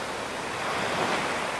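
Sea waves break and wash continuously, a dense, hissing roar of surf with a slight swell in the middle, fairly close and steady with no voices.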